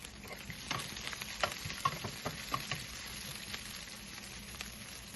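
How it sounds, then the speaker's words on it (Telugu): Cut chillies fry in oil over a high flame with a soft continuous sizzle and scattered crackles and pops, heard close but fairly quiet. "మనం కట్ చేసుకున్న చిల్లీస్ అయితే వేసుకోండి"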